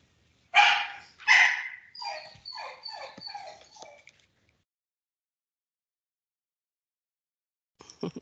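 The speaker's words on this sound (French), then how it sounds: "j'ai un petit chien qui vient se mêler de la partie" A small dog barks twice sharply, then lets out a run of short whimpering yips that trail off, in a quiet room, followed by silence and a brief rustle near the end.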